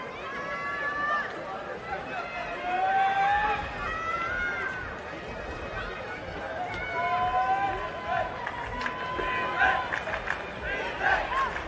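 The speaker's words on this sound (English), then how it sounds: "We can hear all the way over here Mexico fans cheering for Mexico" Mexico fans cheer at the women's Americas Flag 2025 flag football final against Canada, a steady distant crowd roar with shrill whistles and chants under continuous commentary.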